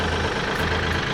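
A tractor engine idles steadily at close range, a dense low rumble with a broad mechanical roar and no talk over it.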